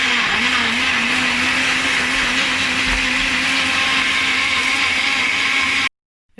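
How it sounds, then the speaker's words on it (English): A blender whirs loudly and steadily for about six seconds with a constant motor pitch, blending fresh tomatoes, then cuts off abruptly into silence. "I blended these tomatoes for about 30 seconds."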